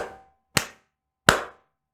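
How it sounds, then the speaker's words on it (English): Three deliberate hand claps closing a spiritual house-cleansing ceremony, sharp and close in a quiet room, each ringing off briefly, spaced roughly evenly with silence between. "you can clap your hands 3 times"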